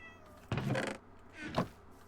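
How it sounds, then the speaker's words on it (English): A cat meows twice in a survival crafting game, two clear, fairly loud calls about a second apart over a faint background hum. "I hear a kitty cat."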